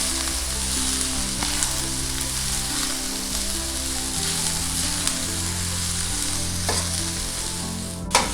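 Chopped vegetables including cabbage tossed and fried on high flame for egg fried rice, a dense continuous sizzle with occasional clatter of tossing and stirring, close and steady, no talking.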